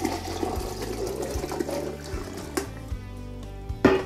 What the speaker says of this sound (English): Now I'm gonna add my sorrel into the pot.